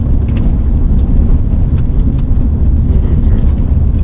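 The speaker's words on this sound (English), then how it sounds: "I feel like we're driving down somebody's driveway." A car rolls along a rough rural road, with a steady low engine and road rumble throughout and faint voices talking over it inside the vehicle.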